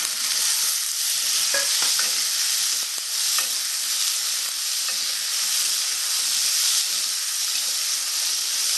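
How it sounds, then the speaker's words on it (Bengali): Potatoes and chickpeas fry in a pan for a Bengali-style pumpkin and chickpea dish, giving a steady, loud sizzle with occasional scraping stirs throughout and no talking. "আলুটা আমি একটু লাল লাল করে ভাজবো"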